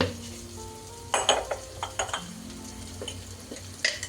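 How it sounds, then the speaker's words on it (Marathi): Spice masala frying in a pan for Jain jowar noodles, a soft background sizzle broken by a handful of sharp utensil clinks and scrapes against the pan. "हा आपला साधा मसाला घालून थोडंसं फ्राय करायचं"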